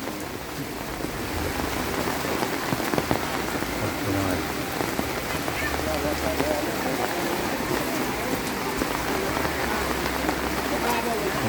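Steady, heavy rain pattering on a surface, a dense continuous hiss close by with no letup.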